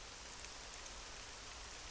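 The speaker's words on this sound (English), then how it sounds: "Next one is rain." Steady rain hisses as an ambient layer for a tabletop game session, an even, constant wash of falling drops with no voices.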